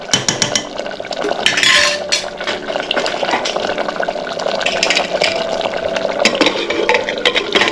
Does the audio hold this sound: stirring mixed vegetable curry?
yes